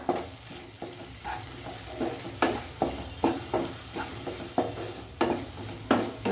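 Bhaji with onions, coriander and curry leaves being mixed in a pan for egg puff filling: a rhythmic run of spatula scrapes about every half second over a low sizzle, close and clear with no talking.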